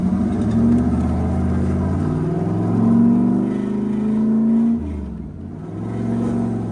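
A V8-swapped Mitsubishi Starion idles with a deep, throaty rumble, rising and falling slightly as it revs.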